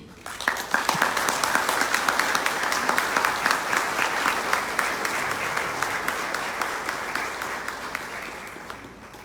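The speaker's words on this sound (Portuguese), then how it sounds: "recibamos entonces con el aplauso merecido a Jorge Godinho" Audience at a Spiritist conference applauding to welcome a speaker, sustained steady clapping from a sizable crowd that swells and holds for several seconds, then gradually thins toward the end.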